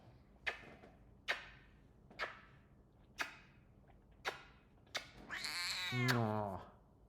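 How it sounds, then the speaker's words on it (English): An angry cat giving a series of short, sharp hisses or spits at a steady pace, then breaking into a long, rising and falling yowling caterwaul, close and loud. "Ah, you even got the cat mad. She's so angry."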